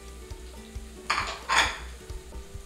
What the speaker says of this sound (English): Next, I'll add the garlic.